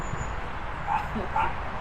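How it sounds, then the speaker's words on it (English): A dog gives two short, yipping barks, slightly distant, over a low rumbling background. "Dog's barking because you're not letting him out."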